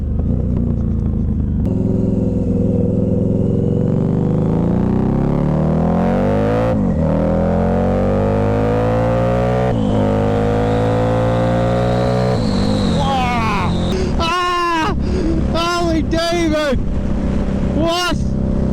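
A 2015 Harley-Davidson Night Rod Special motorcycle engine loud and close, revving up with rising pitch over several seconds, then blipping sharply several times in quick throttle bursts toward the end, with wind buffeting throughout.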